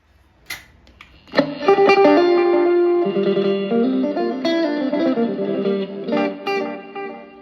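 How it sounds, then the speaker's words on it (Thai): An electric guitar runs through a delay preset on a Boss TG10 multi-effects unit, playing a loud sustained phrase of bright notes with repeating echoes trailing after each one, heard alone without voices. "ต่อไปเป็นค่าดีเลย์นะครับ ค่าดีเลย์กับประมาณนี้เลยครับผม"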